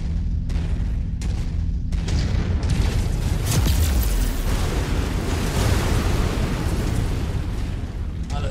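Artillery shelling in the mech combat video game Mechwarrior 5, a few sharp thuds giving way to a continuous heavy rumble of loud explosions that barely lets up.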